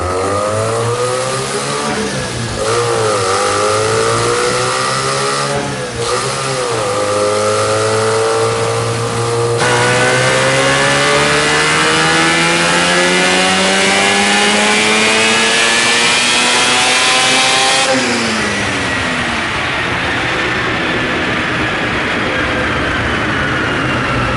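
A modified Mitsubishi GSL-SE car engine with high mileage and nitrous revs loudly and continuously, pitch climbing and falling through repeated throttle pulls, close and dominant with no talk.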